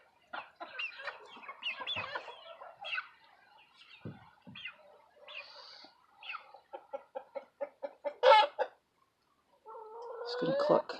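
Chickens in a coop during a North Carolina snowstorm give a series of short clucks and rapid rhythmic calls, close and moderately loud, with a person speaking at times.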